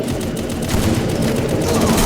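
Thompson submachine gun firing in the game Counter-Strike, a dense, loud burst of rapid gunfire that runs continuously without pause.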